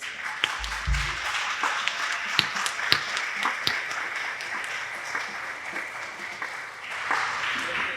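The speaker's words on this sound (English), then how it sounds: "So let's give them a round of applause." A jazz festival audience gives sustained applause, an even spread of many hands clapping with a few sharper claps standing out, continuing throughout.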